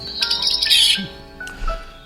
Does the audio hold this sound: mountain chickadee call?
yes